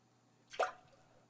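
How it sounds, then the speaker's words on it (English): A single water drop falls and lands with a soft, close plop in the video game Drop Fall Into Poison, followed by a brief fading tail against quiet background. "The sound of falling drops."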